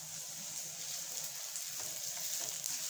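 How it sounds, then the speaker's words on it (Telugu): Tomatoes fry in a pan for a fish curry, giving a steady, soft sizzle that holds evenly throughout, close and fairly quiet, with no voices. "సో ఇప్పుడు టమోటో కూడా బాగా ఫ్రై అవ్వాలి"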